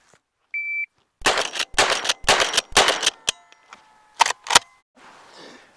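A shot timer beeps, then a tactical lever-action rifle fires a rapid string of loud, close shots at roughly even intervals, followed by two more shots after a short pause, with faint mechanical sounds between them.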